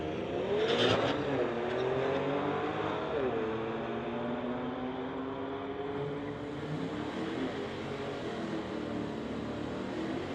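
Mercedes and Infiniti street-legal cars launching side by side from the line at a drag strip: loud, continuous engine roar with rising revs and gear changes that holds steady through the run.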